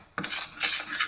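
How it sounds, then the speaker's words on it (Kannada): A spoon scrapes around a pan, mixing jaggery, grated coconut and gram flour for tambittu with the stove off. Three quick, close rasping strokes follow one another. "ಬಂದ್ ಮಾಡಿಬಿಟ್ಟು ಕಡಲೆ ಹಿಟ್ಟನ್ನು ಹಾಕಿ ಕಲಿಸ್ಬೇಕು ಚೆನ್ನಾಗಿ"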